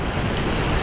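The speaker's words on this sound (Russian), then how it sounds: "Ой, какие волны идут. Посмотрите, какая волна." Ocean surf rolls in at a Turkish beach in December, a loud, dense wash of breaking waves and rushing water close by, with wind buffeting the microphone over a short burst.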